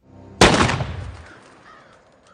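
A single loud gunshot from a Fear the Walking Dead scene: one sudden crack followed by a long, fading echo that dies away over about two seconds, with no speech.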